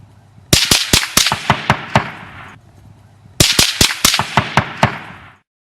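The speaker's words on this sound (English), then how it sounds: "The bullets will pass by, and land far away, with no audible bullet hits. The supersonic cracks will be virtually identical to the sharp sounds" Supersonic cracks from bullets fired far away snap past in two rapid bursts. Each burst holds about eight loud, sharp reports in an uneven rhythm, and silence falls between the bursts.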